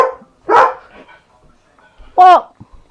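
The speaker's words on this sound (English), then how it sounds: "Stop barking at the cat, you silly dog." A dog gives two loud, close barks about a second and a half apart at a cat, with quiet room noise between them.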